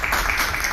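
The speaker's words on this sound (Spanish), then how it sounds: "Un aplauso para Eduardo." An audience at a science festival anniversary event claps steadily for a speaker, a dense, even wash of applause that runs without a break through the short moment.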